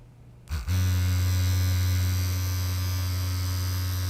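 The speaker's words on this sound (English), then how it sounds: "Now I'm connecting the same motor that needs about 400 milliampere." A small battery-powered electric motor kicks on after a brief click and runs with a steady, loud whining hum that holds constant to the end, with no one speaking.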